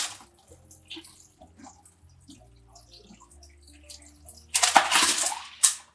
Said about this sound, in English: we'll pour the lemon and the Splenda water right over that